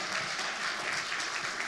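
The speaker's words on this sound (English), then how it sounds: "if we could just give them a round of applause" Steady applause from a crowd, a dense wash of clapping at moderate loudness, sustained without a break.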